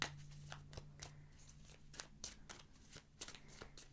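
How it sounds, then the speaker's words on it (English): Close, quiet riffling and soft snapping of tarot cards being shuffled repeatedly in quick bursts. "listening to the sounds of shuffling"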